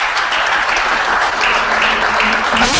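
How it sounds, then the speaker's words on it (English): Studio audience applause for a guest on a Nebraska sports talk show, a loud, dense, continuous wash of clapping that holds steady throughout with no voices over it. "Give Jack a round of applause."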